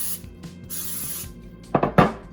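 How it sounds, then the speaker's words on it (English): Short hissing bursts of cooking spray into a pan, two or three quick pumps close by, followed by a few soft scraping rubs. "you can just spray it with a little pan."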